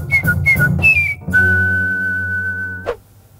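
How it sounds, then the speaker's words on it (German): A person whistles a few short rising notes, then holds one long steady tone before it drops off. "Wer pfeift da?"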